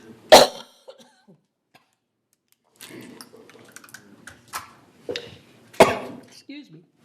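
A woman at a public meeting coughs dryly, one sharp loud cough near the start, then several more scattered coughs and throat sounds over the next few seconds amid faint room noise.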